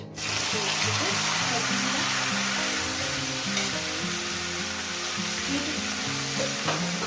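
Okra pieces fry in hot oil, a loud, dense sizzle that starts abruptly and holds steady and close throughout.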